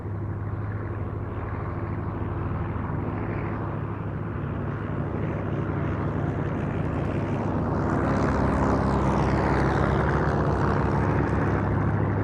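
A Fieseler Storch propeller aircraft taxis past at a VE Day air show, its engine a steady droning rumble that swells slightly as it draws nearer.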